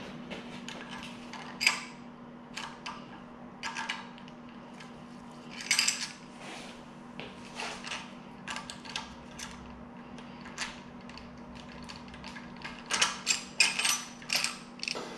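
A ratchet loosens camshaft bolts on a Honda K20 engine being disassembled, giving quiet, close clicking bursts in irregular runs with metallic ticks and a faint steady hum underneath.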